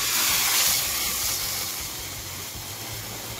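Hot tempering poured into a South Indian cucumber dal (kootu) sets off a loud, steady sizzling hiss that eases off slightly as it settles.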